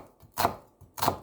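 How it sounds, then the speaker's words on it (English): A knife slices a white onion on a board in two crisp, close cuts about half a second apart, each a short dry crunch against near silence. "Then slice 1 medium slice of white onion."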